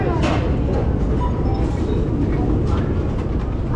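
Tbilisi subway train rumbling in a steady, loud, low roar of rolling wheels and motor, heard from inside with faint scattered clanks and a voice underneath.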